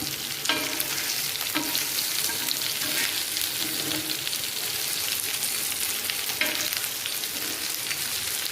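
Vanjaram fish fries with curry leaves in hot oil, giving a loud, dense, steady sizzle close up with a few faint utensil clicks, no talking.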